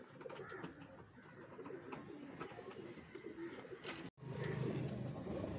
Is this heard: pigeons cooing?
yes